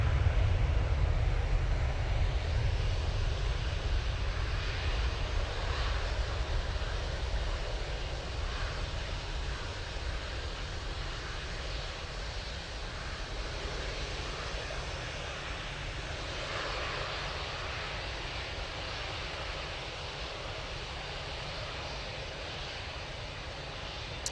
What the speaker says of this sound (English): Right, Ryanair, now on the roll. It's off to Faro.